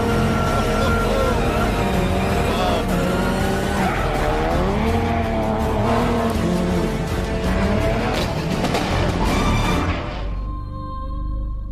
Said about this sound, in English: this car has been set up to handle just like a rally car would on gravel